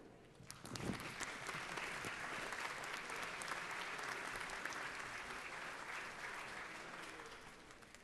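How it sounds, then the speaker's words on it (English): Members of the Georgia House of Representatives applaud in the legislative chamber, a sustained burst of clapping that swells quickly and stays full and steady throughout. "All join in applauding our Doctor of the Day, Dr. David Kringle."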